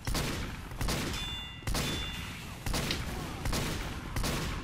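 Gunfire in Team Fortress 2 comes as a series of loud, evenly spaced blasts, about five over a few seconds, each with a short rolling decay, without any talk over it.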